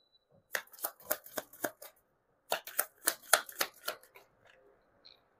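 Close-up tarot card shuffling in two quick bursts of crisp riffling flutters, separated by a short pause, in an otherwise quiet room.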